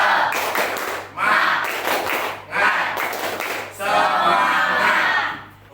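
A school class performs the "tepuk semangat" clapping chant during an Indonesian civics lesson, with three bursts of group clapping and shouted chanting separated by short pauses.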